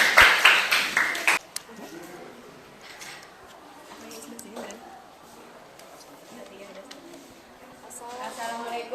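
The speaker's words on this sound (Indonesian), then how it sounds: "Beri tepuk tangan dulu dong." Brief burst of clapping from a classroom audience during a teaching practice session, lasting about a second and a half before speech takes over with quieter voices.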